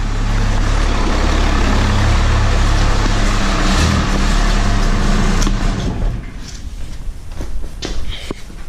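A Cummins 6.7 diesel truck engine runs steadily up close, a loud continuous low rumble that eases slightly toward the end while faint clatter rises above it.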